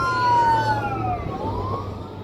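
An emergency vehicle siren wails loud and near during a tornado chase around Madill, Oklahoma, its tone sweeping down and then rising again over steady road rumble.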